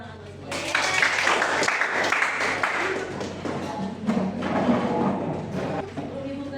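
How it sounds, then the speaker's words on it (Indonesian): Pupils in a classroom clap together in a lively, uneven burst, close and fairly loud, with scattered taps and thumps mixed through the clapping. "Kasih tepuk tangan buat semua."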